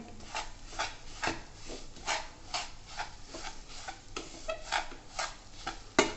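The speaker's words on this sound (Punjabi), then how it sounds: "ਖੋਆ ਨੂੰ ਚੰਗੀ ਤਰ੍ਹਾਂ ਮਿਕਸ ਕਰ ਦਿੰਨੇ ਆ" Spoon stirring khoa into a rice flour barfi mixture in a pan, repeated scraping strokes in an uneven rhythm, close and fairly quiet with no voices.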